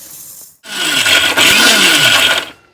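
A kitchen mixer grinder crushes roasted white sesame seeds in its jar, starting abruptly with a loud, close, steady whirring roar that holds for about two seconds before cutting off.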